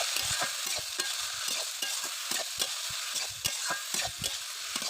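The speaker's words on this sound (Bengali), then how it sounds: "এবার ভালোভাবে নাড়াচাড়া করে মিশিয়ে নেব" Yardlong beans, flat beans and potato stirring in hot oil with salt and turmeric: a rhythmic series of quick spatula scrapes against the pan over a continuous close sizzle, with no talking.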